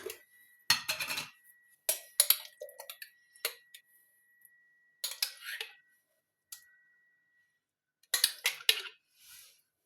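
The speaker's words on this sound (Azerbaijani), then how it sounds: "Və yaxşıca qarışdırırıq." Crab salad with mayonnaise being stirred in a bowl, irregular clusters of scraping, clinking utensil strokes separated by short silent gaps, close and moderately loud.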